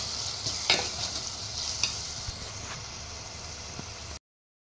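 Chopped tomatoes being stirred into a sizzling prawn curry base in a pan, with steady frying hiss and a few sharp scrapes and clacks of a spoon, close up, ending abruptly.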